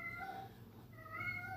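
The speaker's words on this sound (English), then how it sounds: "That's my cat." A pet cat meows indoors, two drawn-out tonal meows separated by a short pause, fairly close over a low steady background hum.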